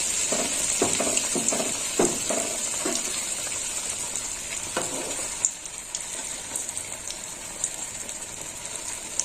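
Something frying steadily in a hot pan as a second piece goes in, sizzling and crackling continuously with scattered pops and soft scrapes, close and fairly loud, with no talking.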